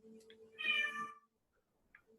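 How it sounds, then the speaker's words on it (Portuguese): A single house cat meows once, a short, fairly close call in a quiet indoor room, followed by silence and a few faint small noises. "Você ouviu um gato aí?"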